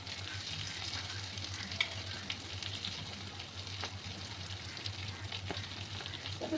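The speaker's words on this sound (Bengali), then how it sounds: "ওই ওপর সাইডটাকেও আমি একটু লাল লাল করে ভেজে নেব" Stuffed pointed gourds (potol) fry gently in a pan over moderate heat, making a continuous even sizzle with sporadic small pops and utensil clicks over a low background hum.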